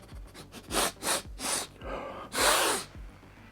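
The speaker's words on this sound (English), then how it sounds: "time for a sniff test." Someone sniffs a new Kroxigor Seraphon miniature from Warhammer Age of Sigmar. Several sharp, close nasal sniffs come in an uneven run, and a longer sniff ends the sequence.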